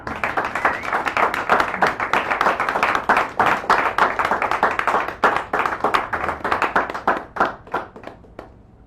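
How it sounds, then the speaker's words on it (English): Close, energetic clapping from a small open-mic audience in a San Francisco cafe as a poet is called forward, dense at first, then thinning to scattered individual claps near the end. "Miss Sarah Page, would you kindly come forward and enjoy the applause which you are so richly deserving of?"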